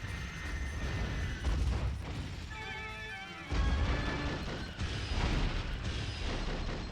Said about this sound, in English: Dude, he's only using power missiles.